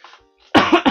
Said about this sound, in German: Dieser Husten tut mir wirklich echt leid.